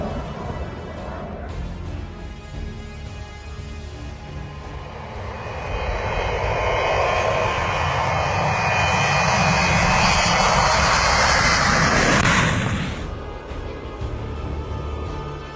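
A cargo plane's aircraft engine roars in flight near Puerto Carreño, swelling louder over several seconds to a strong near peak, then cutting away abruptly, with no talk over it.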